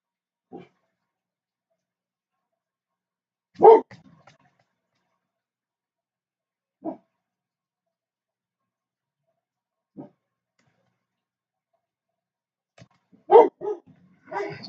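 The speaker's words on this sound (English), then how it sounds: "Sorry about the dogs" Dogs bark in short separated bursts, a single yelp early, a louder bark cluster near the start, two isolated barks, then a rapid flurry at the end, fairly close with no talking.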